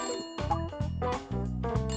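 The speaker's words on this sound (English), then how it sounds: "Oh, that's the phone." A telephone rings in the Layton Brothers: Mystery Room video game, a short run of bright electronic ring bursts repeating several times over about two seconds, clear and alone with no talk.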